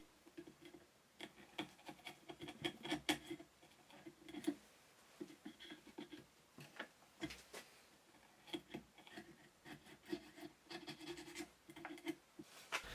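Sharp chisel paring and tidying a nearly finished socket in reclaimed hardwood clamped in a vise, giving irregular scraping, rasping strokes with small ticks and pauses, close and fairly quiet with no talk.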